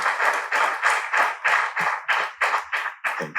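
Audience applause at a fireside business talk, a steady wave of clapping from a crowd that pulses in regular bursts and carries on for several seconds, loud and close, with no voice over it.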